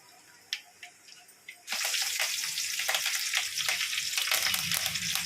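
Mustard seeds and other tempering spices hit hot oil and burst into a loud, steady sizzle with crackling pops, starting abruptly after a couple of faint clinks and continuing close up to the end.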